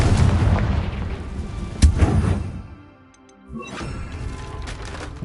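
A Confringo spell explosion in Hogwarts Legacy on PS5: heavy booming blasts with low rumble and a sharp crack, loud and close, dying away into a brief lull before more rumbling, no talk.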